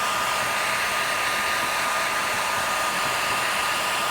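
A hair dryer blows hot air to heat plastic during a restoration, a loud, constant, even whooshing roar that holds steady from start to finish with no talking.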